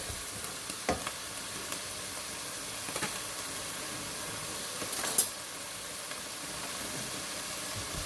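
Masoor dal with palak and spices frying in a pan, giving a steady soft sizzle with occasional stirring clinks, moderately close and heard alone.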